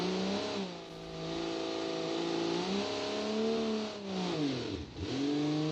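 A car engine in the BeamNG driving game revs steadily, its pitch rising and falling through several swells and one sharp dip, loud and close with no talk over it.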